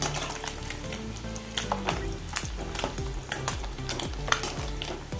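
Anchovy fish fry with curry leaves in hot oil and are turned over, a steady close sizzle broken by a series of spatula scrapes and taps against the pan, with no talk.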